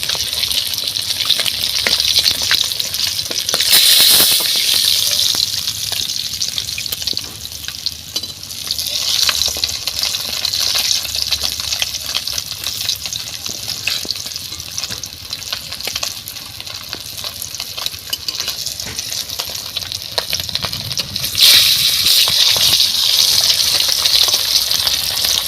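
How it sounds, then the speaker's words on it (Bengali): Golden fish pieces frying in hot oil give a steady, loud crackling sizzle throughout, with brief surges of spattering around the start and near the end and no talk. "মাছগুলো লাল লাল করে ভেজে নিয়েছি"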